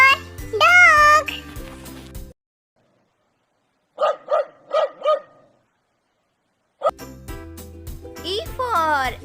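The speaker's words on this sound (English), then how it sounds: "D for dog." A dog barks four times in a quick, even burst, loud and close, set between stretches of a child's sing-song alphabet chant over backing music.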